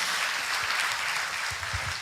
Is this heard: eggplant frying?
no